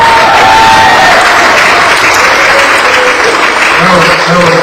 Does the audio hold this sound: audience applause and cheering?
yes